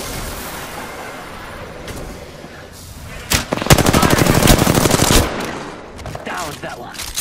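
Video game gunfire from bomb bots: a dense burst of rapid automatic shots for about two seconds in the middle, with scattered single shots before it and busy game noise around it.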